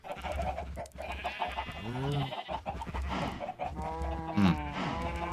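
Farm animals in a farming video game call out in a busy mix of bleats and bleating cries, some overlapping, at moderate volume, with a faint clucking fowl-like note.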